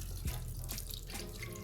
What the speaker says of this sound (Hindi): अब मैं इसमें थोड़ा सा पानी डाल रही हूँ